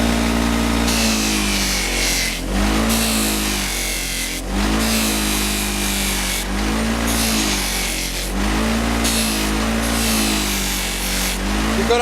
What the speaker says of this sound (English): this part is going to get pretty hot from the buffing operation